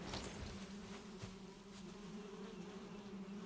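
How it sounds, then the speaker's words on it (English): Bees hum steadily around a beehive in Valheim, a continuous soft droning buzz at low level with no talking. "Hello, bees. The bees are happy."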